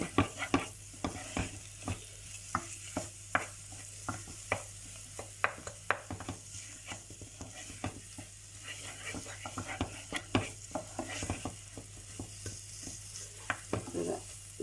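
Spice paste for Kesari fish curry with mango being stirred and fried in a pan, a gentle sizzle running underneath repeated scraping strokes of the spoon at an irregular rhythm, close and fairly quiet.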